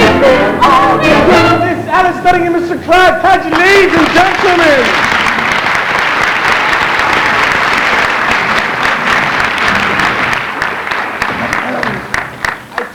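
High school theatre audience applauding a musical performance, loud sustained clapping that swells after a sung passage, with a voice speaking over it near the end.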